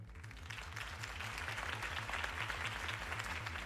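In Batman: The Telltale Series, a crowd applauds after a campaign speech, a steady wash of clapping over a low rhythmic music bed, fairly quiet overall.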